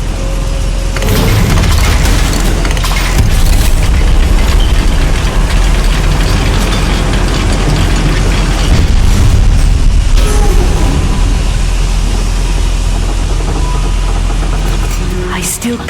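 Confringo spell blasts in the game Hogwarts Legacy, set in a goblin mine: loud, booming rumbles and bursts roll almost continuously, heavy and close, with no speech over them.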